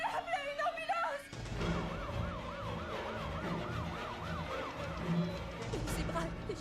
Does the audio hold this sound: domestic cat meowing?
no